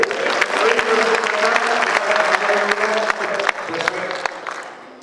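A crowd applauds at a poetry recital, loud, dense clapping with distinct sharp claps and some voices mixed in, tapering off near the end.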